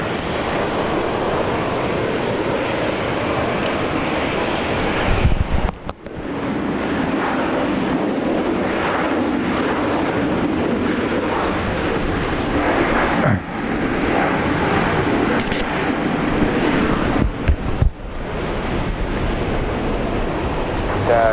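An airliner lands at Brisbane Airport with a loud, sustained engine roar and rumble that carries through most of the stretch, broken briefly by a few sharper knocks.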